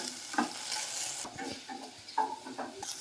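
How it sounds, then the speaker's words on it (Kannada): Okra fries in oil with cumin seeds, a close, bright crackling sizzle broken by scraping stirs and a couple of sharper utensil knocks against the pan, with no voices. "ಜೀರಿಗೆ, ಎಣ್ಣೆ ಹಾಕಿಬಿಟ್ಟು ನಾನು ನೀಟಾಗಿ ಫ್ರೈ ಮಾಡ್ಕೊತಾ ಇದ್ದೀನಿ ಬೆಂಡೆಕಾಯಿನ"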